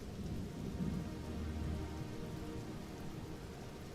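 The Toxic Rain skill effect in Path of Exile 2 produces a steady stormy wash of rain-like hiss with a low rumble swelling briefly, continuous and fairly quiet, with no talking.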